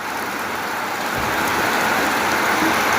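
Steady rain pours down in a dense, even hiss, loud and close, with no break across the moment and no voices.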